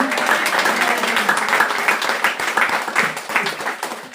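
A church congregation applauds together in a steady, dense patter of clapping that holds for several seconds, with voices mixed in beneath it.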